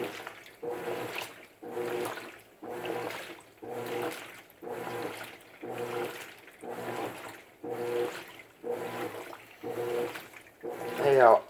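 Water rushes into a washing machine during the rinse of a whites cycle, surging in regular waves about every second, with a faint voice in the background.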